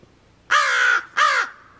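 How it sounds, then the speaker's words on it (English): Two loud, harsh raven calls close by, each a drawn-out croaking caw about half a second long, separated by a short pause, with no other sound in the background. Recorded beside a bird aviary just after a deep freeze. "I hear a raven."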